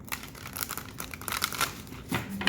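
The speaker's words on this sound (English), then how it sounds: "You get a good shuffle." A tarot card deck is shuffled by hand, producing a continuous soft riffling and flicking of cards at close range, steady and moderately quiet throughout.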